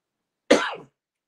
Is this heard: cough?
yes